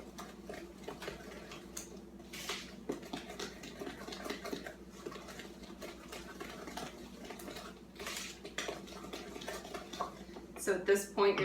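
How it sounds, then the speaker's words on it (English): Egg being stirred into chocolate chip cookie dough in a home kitchen: soft, repetitive scraping and clicking of a utensil against a bowl, quiet and close, with someone talking over it. "Stir that in just until it's blended."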